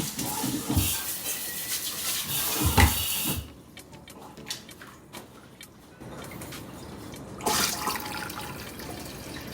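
Water runs and splashes into a kitchen sink, loud at first, then thinning to scattered drips and trickles before a short renewed gush.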